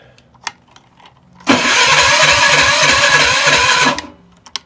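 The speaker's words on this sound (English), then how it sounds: "But that's a good sign that the electric start portion is working." Electric starter cranking the engine of a rebuilt drift trike on a nearly dead battery, one sustained labouring churn of about two and a half seconds with a slow pulsing rhythm, loud and close, without the engine catching; small clicks before and after.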